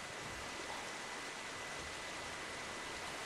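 Steady, dense watery wash and splashing from swimming in the Ghost of Tsushima video game, a broad continuous rush at an even level with no talking.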